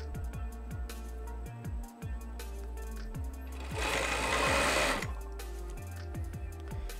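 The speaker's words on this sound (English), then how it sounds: "And the machine will cut the excess for me." An industrial sewing machine stitches and trims luggage fabric with a steady, rapid mechanical chatter, loud and close. A harsher whirring burst of cutting rises midway, with no one speaking.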